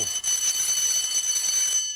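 An electric school bell rings continuously with a bright, buzzing metallic tone, steady and moderately loud for about two seconds, in a 1951 radio show.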